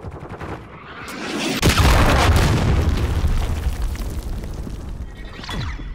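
A cruise missile strike in the Modern Warfare II video game gives a loud, close boom that swells into a rumbling wall of explosions and rapid gunfire, then fades into scattered blasts.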